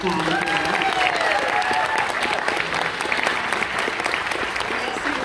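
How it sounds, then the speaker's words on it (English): Sustained audience applause at a Christian school senior theater production of Mary Poppins, a dense, loud crowd clapping throughout with some voices and cheering underneath. "Round of applause."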